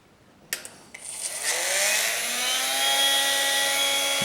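A homemade steel rotary grinder powered from a bench supply starts with a couple of clicks, then spins up into a loud, rising whine that settles into a steady high-pitched motor drone.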